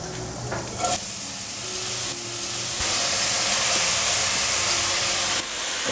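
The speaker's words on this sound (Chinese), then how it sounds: "快速翻炒" Enoki and shiitake mushrooms stir-frying in hot oil with minced ginger give off a steady, loud, close sizzle that thickens midway, with scraping stirs throughout and no voices.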